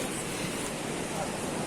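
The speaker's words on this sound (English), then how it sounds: "what you can hear right now is the sound of a waterfall" A waterfall on an evening nature hike gives a steady, broadband rushing roar, moderately loud and unbroken, with some wind noise mixed in.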